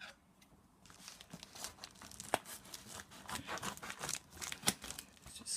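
A parcel holding a Shengshou Square-1 cube is cut open, with quiet crinkling and tearing of packaging and short sharp snips scattered through, close and soft.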